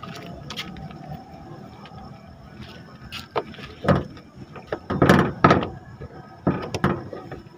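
The engine bonnet of a Mitsubishi Expander is worked open, with faint fumbling followed by a series of close, sharp mechanical clunks and knocks from the latch and hood, irregularly spaced over several seconds.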